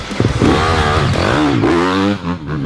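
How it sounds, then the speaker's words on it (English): Race motorcycle engine catching and revving hard, a loud close roar rising and falling through several throttle blips for about two seconds before dropping back toward idle, with no talk over it. "So let's fire up the race bike and let's see the difference."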